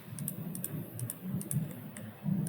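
Rapid clicking from a computer mouse while a keychain shape is traced roughly around its edges in design software, steady and close, with a light, uneven rhythm throughout and no talking.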